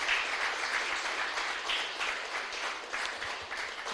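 Applause rings out from a church congregation honoring the Lord, a steady dense wash of clapping that holds for a few seconds without letup and eases only slightly toward the end.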